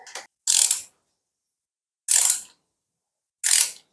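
Tool clicks while the clamp bolt of a Shimano road front derailleur is tightened, three short close ratcheting bursts separated by silent pauses, with a faint click at the start.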